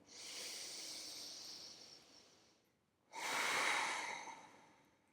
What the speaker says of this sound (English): Deepen your breathing.